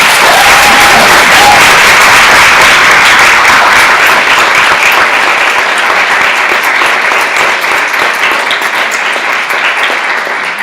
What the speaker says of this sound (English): So just join me in giving them a round of applause.